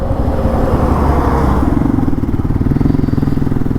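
A motorcycle idling and creeping forward close by in a queue of vehicles waiting for a ferry launch near Sigandur on a monsoon ride, its engine a steady loud throbbing putter with no talk over it.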